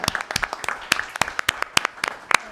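Sparse applause at a parks and recreation commission meeting, a small group clapping in distinct, uneven claps that sound close and moderately loud.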